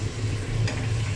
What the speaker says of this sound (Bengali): আমি আর একটু নেড়ে দেব